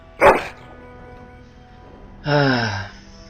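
A Mabari war hound in the video game Dragon Age: Origins gives a sharp bark, then after a pause a longer whining, falling yelp, both close and loud over a faint background hum.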